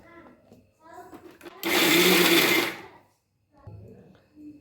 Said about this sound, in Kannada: ನೀರೇನು ಹಾಕದೆ ಹಾಗೆ ಮಿಕ್ಸಿ ಮಾಡ್ಕೋಬೇಕು